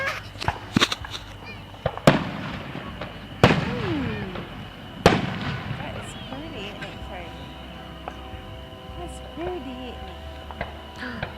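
Fireworks pop and crack in a series of sharp, loud bangs, some with whistling tails, while several people talk and exclaim throughout.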